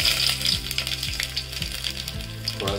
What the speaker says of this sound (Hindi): अब इसमें हम डालेंगे थोड़ी सी सरसों के साथ कड़ी पत्ता